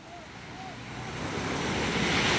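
Surf rushes and swells steadily louder, broad wash of ocean waves with wind buffeting the microphone, a few faint tonal squeaks early on.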